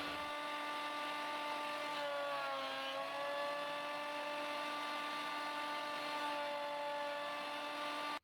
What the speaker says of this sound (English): Then I could run them through the thickness planer just to clean up the edges a little bit.